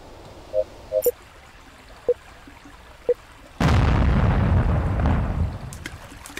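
In the PC game Planet RIX-13, a few faint beeps and clicks, then a sudden loud explosion of planted explosives bursts out and rumbles on, slowly fading over a few seconds.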